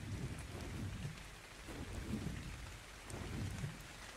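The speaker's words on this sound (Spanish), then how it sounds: "Con tormenta incluida" A thunderstorm with steady heavy rain and low rumbling thunder in the video game ARK Survival Evolved on the Ragnarok map, continuous and enveloping with no talk.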